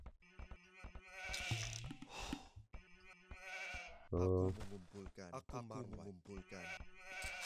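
Sheep in Age of Empires 2 bleat several times in short wavering calls, some loud and near, mixed with game effects while someone talks over them.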